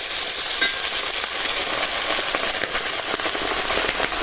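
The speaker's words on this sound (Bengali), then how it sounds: "কড়াইটা অনেক গরম হয় এখন দিয়ে দিব কাঁচামরিচ" Green chilies hit a very hot wok and sizzle loudly, a dense continuous hiss peppered with sharp crackles and pops, close and steady throughout.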